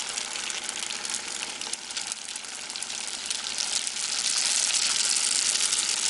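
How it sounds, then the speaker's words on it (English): Spring rolls fry in hot oil, about ten at a time, giving a steady bright sizzle and crackle that swells slightly louder toward the end, with no voices. "You know it's good when it starts sizzling like that."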